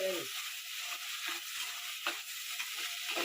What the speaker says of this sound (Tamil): நல்லா இப்படி வணக்கிட்டே இருக்கணும் தக்காளி பழம்